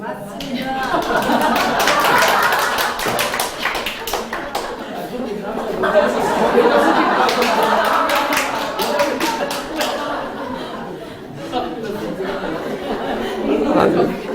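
Audience at a Korean national policy forum clapping in scattered bursts, mixed with laughter and chuckles, voices talking over it throughout.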